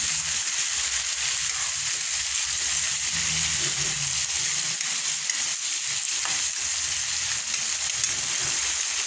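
Sautéed aromatics for adobong sitaw sizzling and frying in a pan while being stirred, a continuous bright hiss with faint scraping and sloshing, no voices.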